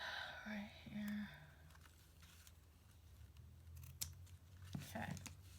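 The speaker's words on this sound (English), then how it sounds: "I'm going to snip that at the bottom here." Scissors snip paper for an altered book craft project, a few soft close cuts mixed in with quiet murmured talk in a calm room.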